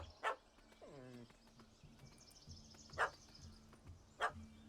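A dog barks at a cat up a tree in the Witcher 3 video game, three sharp single barks spaced about a second apart, with a quieter whine-like sound between them.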